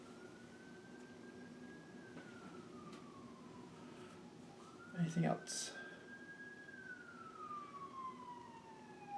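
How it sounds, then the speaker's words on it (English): An ambulance siren wails past at a distance in a quiet indoor setting, a slow rising and falling tone that fades, with a brief louder thump midway and a person speaking softly near the end. "Oh, it's an ambulance."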